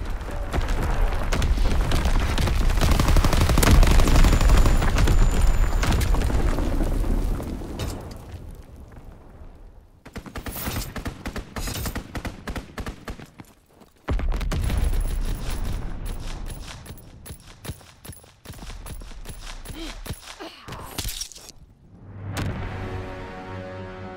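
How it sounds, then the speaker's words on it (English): Mortar rounds and gunfire in the Call of Duty: WW2 battle game: heavy rumbling blasts and booms at first, then scattered sharp shots and bursts of fire, with loud and quieter spells. "Sending mortar rounds."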